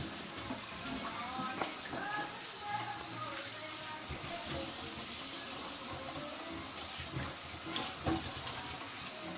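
Potatoes washed under a running tap before boiling, a steady splashing stream of water with occasional knocks and rubbing, close by and moderately loud, with no talk.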